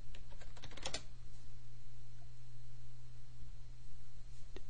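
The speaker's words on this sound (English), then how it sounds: "If I refresh and type Twitter in," Quick burst of computer keyboard typing, close clicky keystrokes clustered in the first second, then near silence over a low hum, with one last key tap near the end.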